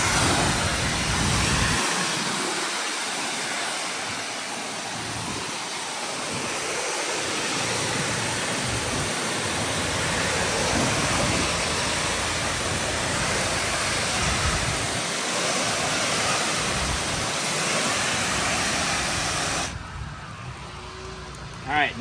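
Continuous loud hiss of a water spray rinsing a house exterior during a soft wash, steady for about twenty seconds, close and broadband, before cutting down near the end.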